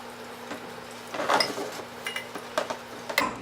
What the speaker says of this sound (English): And then just give that a nice quick stir.